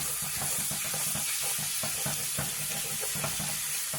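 Sausage fries and browns in a pan over medium heat, giving a steady close sizzle with a rapid crackling texture that runs unbroken throughout.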